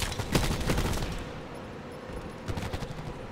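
Hades automatic gun in Call of Duty Black Ops 4 firing a rapid, loud burst, a pause, then another shorter burst of shots.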